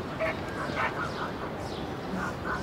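A dog yips and barks a few times at moderate distance over a steady background hiss, with no talking.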